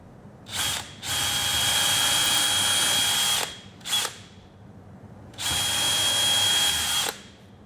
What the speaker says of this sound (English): have my drill bit on slow, I'm going to increase the speed a little bit.